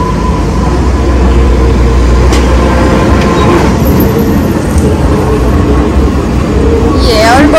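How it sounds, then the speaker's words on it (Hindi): Enoden train running along the road in Enoshima, Kanagawa: a steady loud rumble of rolling wheels with faint clickety-clack, close by and continuous, with a brief high squeal near the end. "ये री वो एनोदेन, ये देखो रोड पे ही बिल्कुल चल रही है।"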